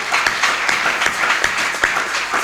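Church congregation applauding to praise the Lord during a service, a steady wash of many hands clapping with irregular louder bursts throughout, moderately loud and continuous with no talking.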